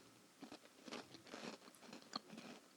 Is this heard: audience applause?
no